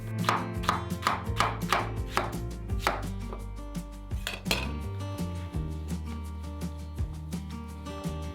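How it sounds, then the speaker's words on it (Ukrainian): A knife chops a zucchini into rings on a board in a warm, bright kitchen, a steady run of sharp, close cutting strikes over quiet background music. "Нарізаємо кабачок кільцями."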